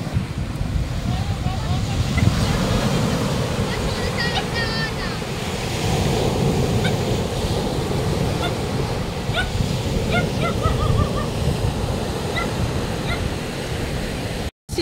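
Loud, continuous roar of strong sea surf during the southwest monsoon, with heavy wind buffeting the microphone, faint bird calls or voices scattered through.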